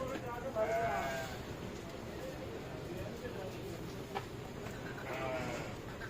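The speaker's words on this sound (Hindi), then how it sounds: "ये बकरा भी बहुत अच्छा है।" Goats bleat in a bustling Lahore livestock market ahead of Qurbani, a couple of wavering calls rising over steady crowd murmur and nearby talk.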